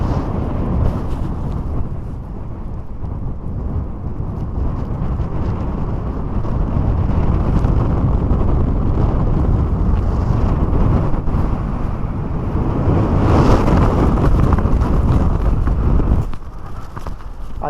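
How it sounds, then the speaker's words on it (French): Strong gusty wind buffets the microphone on a mountain trail in the Mercantour near the Lacs de Vens, a loud continuous roar with surging peaks and no talking. "il y a un vent de fou"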